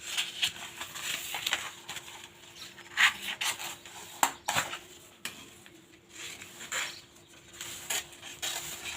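Scissors cutting through marked blouse fabric during tailoring, a steady run of soft rasping snips and rubbing strokes at close range with no talk.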